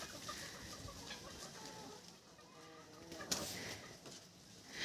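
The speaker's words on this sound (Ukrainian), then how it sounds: "Такі, наче маленькі кури, а так багато кіпішу від них." Several small chickens clucking and chattering close by, soft overlapping calls with a few sharper squawks, against a quiet background.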